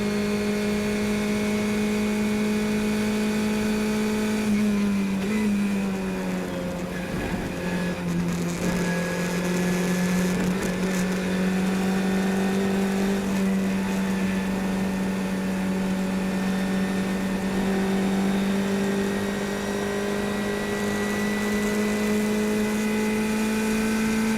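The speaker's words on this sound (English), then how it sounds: "There's the downshift going into turn 10." A 2017 SCCA regional race car runs at Watkins Glen, heard from onboard. The engine's sustained drone drops in pitch through a downshift, then climbs and holds steady again as the car powers on.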